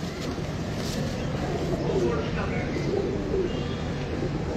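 Pigeons cooing in a pigeon-fancier's loft in a bird market, soft low coos under a steady, loud wash of background noise with no clear voices.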